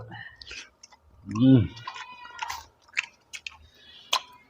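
Someone eats Bhola fish, and soft, close chewing with small wet clicks comes in scattered bursts, along with a brief spoken voice.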